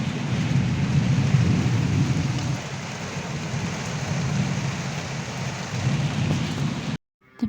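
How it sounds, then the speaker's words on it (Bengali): An evening thunderstorm brings steady rain and low rumbling, loudest early and then easing into a constant wash before cutting off abruptly near the end. "তো বিকেলবেলা দেখো ঝড় বৃষ্টি শুরু হয়ে গেছে"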